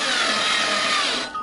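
A power drill drives a screw into cedar with a steady, loud whine lasting just over a second, then cuts off abruptly, up close with no talking.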